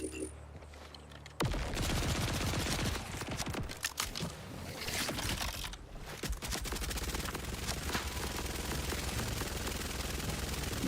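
Video game gun with heavy recoil, loud rapid shots starting abruptly after a quiet opening and continuing as a dense, steady stream of gunfire with a short break near the middle, up close.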